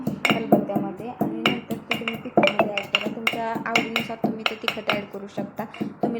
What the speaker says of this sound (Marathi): हे सगळं मिश्रण एकदम बारीक कुटून घ्या